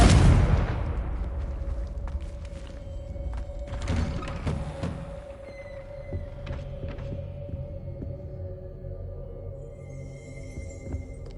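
Confringo spell blast in Hogwarts Legacy: a single loud, booming burst at the start that decays into a long low rumble and hum, followed by faint scattered clicks.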